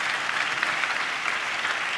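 A church congregation claps their hands in praise, giving a dense, continuous patter of many hands that fills the room evenly, loud and steady throughout.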